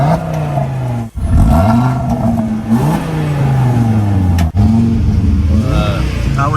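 A 2020 Audi RS Q3 Sportback revs hard in RS mode, its engine note sweeping up and down repeatedly toward the rev limiter, loud and close from inside the cabin, with voices talking over it.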